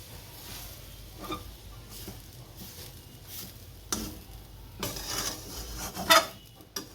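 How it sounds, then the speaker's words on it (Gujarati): A spoon stirs a coconut sweet mixture for kopra pak in a pan over a low gas flame, giving soft scraping and clinking strokes at an uneven pace, close and fairly quiet. "અને આપણે હલાવતા રહેવું, નકર નીચે પછી બેસી જાય"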